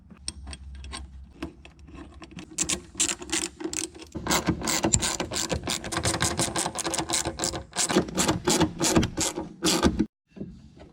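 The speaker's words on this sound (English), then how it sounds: "Thread in your supplied Allen bolts." A ratchet tightens the supplied Allen bolts into a Miata shifter plate during a GETRAG transmission swap. A rapid run of close, loud clicking pawl strokes continues steadily for about ten seconds, then stops abruptly.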